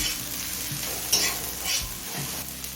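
Onions frying in a pan while being stirred, a soft continuous sizzle broken by a few scraping strokes of the spoon, close and fairly quiet with no voices.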